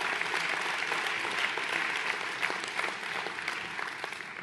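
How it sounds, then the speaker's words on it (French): An audience at a 2020 New Year's greetings ceremony for residents applauds steadily for Diego Diaz, a dense, even wash of many hands clapping at close range with no talk over it. "Il est là, on peut applaudir Diego également."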